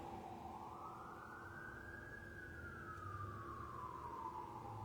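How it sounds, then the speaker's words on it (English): An emergency vehicle siren passes outside, a steady wailing tone that rises and slowly falls as it goes by, moderately loud and continuous with no talking. "When there's a siren while I'm reading, I pause my recording"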